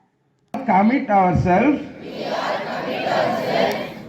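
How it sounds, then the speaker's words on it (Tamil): Students at a minority government-aided higher secondary school sports event in Koothanallur, Tiruvarur, cheering and shouting slogans for competing teachers; a sudden loud crowd roar with a voice rising above it, settling into a steady, busy crowd din. "போட்டியில் பங்கேற்ற ஆசிரியர்களை மாணவர்கள் கைத்தட்டி கோஷம் எழுப்பி உற்சாகப்படுத்தினர்."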